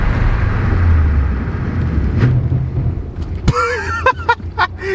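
A Subaru WRX fitted with upgraded brakes brakes hard from 80 on a highway. Loud road and engine rumble fades as the car slows, then cabin noise and brief squeaks follow near the end.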